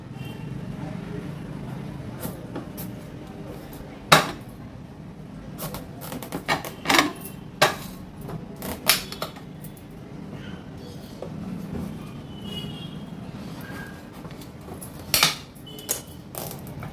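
Cutting into a red pumpkin with a knife, a series of sharp, irregular knocks and cracks spaced over several seconds, close and moderately loud above a low room hum.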